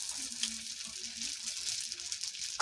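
Tel pitha, oil-fried rice cakes, sizzle in plenty of oil in an old handle-less karahi set on a clay stove. The steady frying hiss is soft and close, with a faint low hum beneath it.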